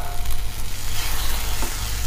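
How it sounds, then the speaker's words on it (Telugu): Fried vermicelli is stirred into cooked sago for payasam, a soft steady sizzle running throughout with faint scraping of the spoon in the pan. "ఇప్పుడు ఇందులో వేసేసుకొని ఒకసారి అంతా కలుపుకుందాం"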